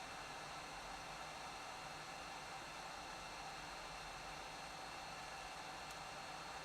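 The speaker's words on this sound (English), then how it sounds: "Metcal hot air station's really quite noisy when you've got it on full power." A Metcal hot air rework station blows warm air on full power, giving a continuous, even hiss like a hair dryer that holds steady throughout with no breaks or voices.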